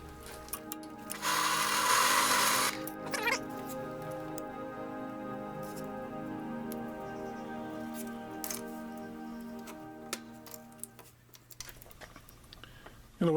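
A drill with a 3/4 inch Forstner bit bores into rubber, a quiet steady whir with a brief louder burst near the start and a few clicks, heard close up and without talk.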